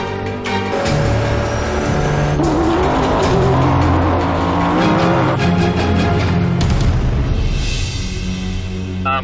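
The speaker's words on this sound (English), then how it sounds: "The Ecoboost engine powers the F-150 past all stock full trucks." A 2013 Ford F-150 with an EcoBoost engine races at high speed in an off-road Baja race. The engine roars and strains loudly and continuously, with bursts of mechanical clatter and gear changes throughout.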